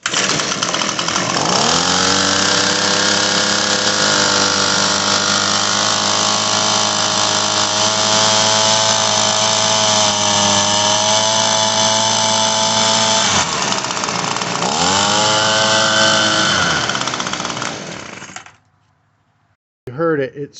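An Echo PB-250LN leaf blower engine screams at steady high revs during carburetor adjustment, loud and close, dipping briefly twice before climbing back, then cutting off.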